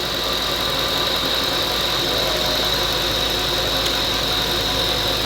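A steady, loud Audi S6 engine drone runs at full load on a dynamometer without a break, a constant mechanical hum with a high whine layered over it and no voices.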